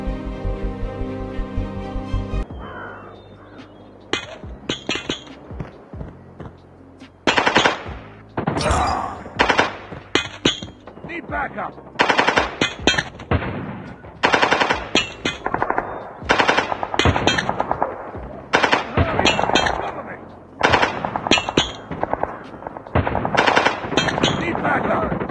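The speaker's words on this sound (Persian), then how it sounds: "وقتی این نارنجک رو پرتابش میکنی از خودش صدا در میاره ولی منفجر نمیشه" A decoy grenade in Call of Duty Mobile throws out fake gunfire, with bursts of loud machine-gun-like rattling and scattered shots. The bursts come in uneven clusters with brief gaps, all close and loud.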